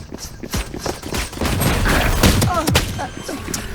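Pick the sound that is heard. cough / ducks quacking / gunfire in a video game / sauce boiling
gunfire in a video game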